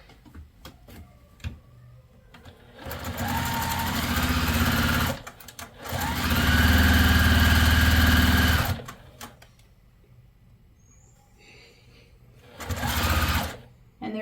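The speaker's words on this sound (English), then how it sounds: "So I'm just going to flip that up, sew it on" A sewing machine stitches a leaf appliqué onto a quilt block in two sustained, close runs of steady whirring, then a short third burst, with light handling sounds and small clicks between.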